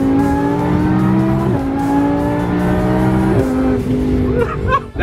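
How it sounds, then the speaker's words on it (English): A Toyota Sienna minivan driven hard at a car rally, its engine note rising and falling through gear changes with brief tire squeal, loud and close throughout. "Toyota Sienna has decided to join the rally, and he's driving more aggressively than the majority of the people on the rally right now."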